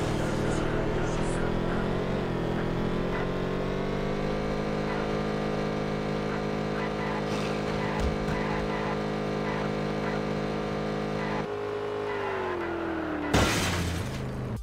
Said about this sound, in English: according to the game's sound, Carnby doesn't know how to shift gears in a car.